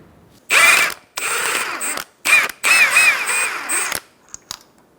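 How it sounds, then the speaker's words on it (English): A ratchet turns an 18 mm socket to remove the front strut nut on a 2004-2009 Mazda 3, heard as four or five close, loud bursts of rapid clicking separated by short pauses. "I'm going to take this nut off."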